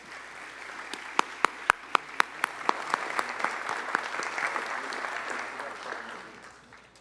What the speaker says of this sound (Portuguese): Uma calorosa salva de palmas